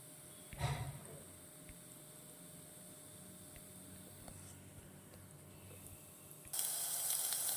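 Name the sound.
tempering of lentils, cumin, mustard seeds, chillies frying in oil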